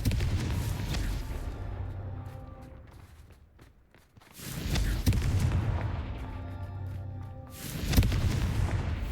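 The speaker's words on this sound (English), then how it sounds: "Bombarda. Confringo." Bombarda and Confringo explosion spells go off in Hogwarts Legacy, producing heavy booming blasts with long rumbling tails, two large explosions in succession and a sharp impact near the end.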